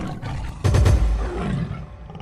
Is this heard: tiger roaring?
yes